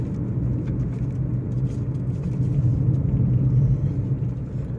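A Hyundai Santro car rolls slowly over a bumpy, potholed rough road, its interior filled with a steady low rumble of engine and tyres, swelling slightly as it jolts along.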